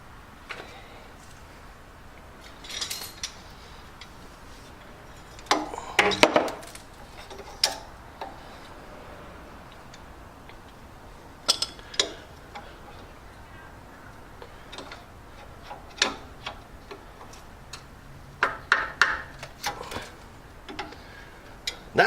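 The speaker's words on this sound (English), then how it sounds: "Now the first thing I'm going to do is see if I can get this clip out of this one." A clip being pried off a steel braided brake line, with scattered faint metallic ticks and clicks, several quick clusters of taps spread through otherwise quiet stretches.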